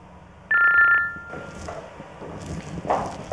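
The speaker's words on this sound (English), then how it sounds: "Answer your phone." A telephone rings in a romantic comedy scene with a single short electronic burst of two-tone trilling, loud and near, then quieter room sounds follow.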